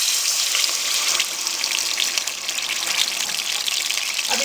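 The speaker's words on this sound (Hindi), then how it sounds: "अब इसमें हम 1/2 कप पानी डाल देंगे।" Half a cup of water pours into melted jaggery and ghee in a pan for halwa, giving a continuous loud hissing sizzle and gush that carries on for several seconds with no talking.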